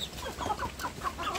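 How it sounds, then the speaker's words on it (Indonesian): Young village chicks in a rearing box chirp and peep close by in quick, overlapping high cheeps, with a soft background hum beneath. "Kalau anak ayam kampung sudah sebesar seperti ini"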